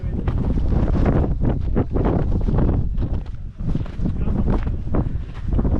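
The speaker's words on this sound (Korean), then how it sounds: "바람이 너무 많이 불어." Strong gusting wind roars across an exposed high mountain at Tateyama in the Northern Japan Alps at around 2,792 m, buffeting the microphone loudly and continuously, with a brief lull midway.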